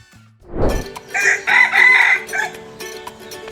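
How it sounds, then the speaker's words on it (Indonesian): A red junglefowl rooster crows loudly and close after a brief rustle, its drawn-out call rising and wavering over about two seconds before trailing off, with no voices. "Akhirnya yang ditunggu nongol juga. Si ayam hutan merah."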